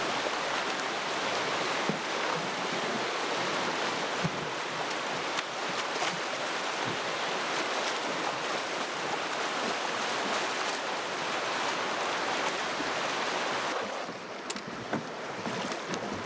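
Steady, rushing water of a rough river current in Mexico roars continuously with a broad wash of noise and gusty wind buffeting the microphone, with no voices throughout.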